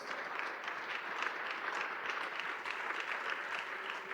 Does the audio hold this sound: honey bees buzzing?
no